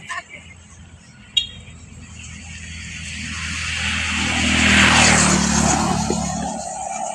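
A motor vehicle approaches and passes on the way to the office, its engine and road noise swelling to a peak midway and then easing. A sharp click sounds early on, and no voices are heard.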